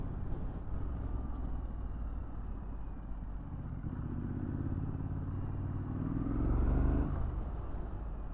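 A 2021 Triumph Street Scrambler motorcycle engine, heard close with a low throbbing rumble that swells under throttle near the end before easing back.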